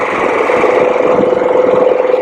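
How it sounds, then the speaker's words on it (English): Harley-Davidson Pan America engine while riding on an Alpine mountain road, a steady, close droning hum with a throbbing pulse, continuous and loud. "ride this Harley Davidson Pan America"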